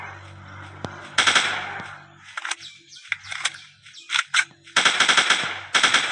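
Rapid gunfire from a dinosaur hunting video game, loud bursts of automatic shots alternating with shorter single cracks and brief pauses, with faint game background sound underneath.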